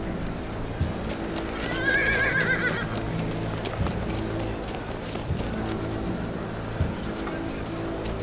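A horse whinnies loudly while hooves clip-clop steadily on hard ground in a historical Turkish drama scene, with a rumbling background throughout.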